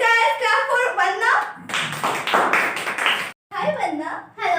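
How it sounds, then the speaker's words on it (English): An audience of students claps for a student called onto the stage, a short burst of brisk clapping between spoken lines, with voices before and after it. "Please guys clap for Vandana."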